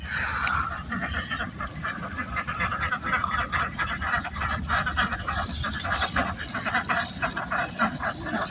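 Domestic ducks crowd a floating duck farm in open water, a dense, continuous chorus of quacking from a large flock, near and busy with overlapping calls throughout.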